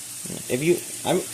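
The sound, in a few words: fries frying while being cooked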